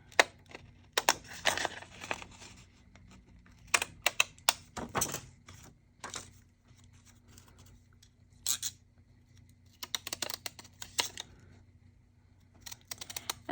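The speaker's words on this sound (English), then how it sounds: "So I'm gonna grab scissors." Scissors snip at paper in scattered bursts of short, crisp cuts, with quiet pauses between them.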